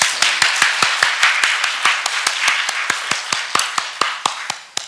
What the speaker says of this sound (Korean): 큰 박수로 한번 부탁드립니다